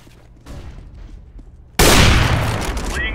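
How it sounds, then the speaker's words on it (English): A flashbang grenade goes off in Counter-Strike: Global Offensive, bursting suddenly into a loud, close blast that decays over the next second, with quieter game noise before it. "Deploying flashbang."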